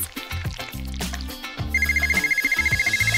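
A phone rings with a loud, rapid, steady ringtone pulse that cuts in partway through and continues to the end, over background music during a makeup tutorial.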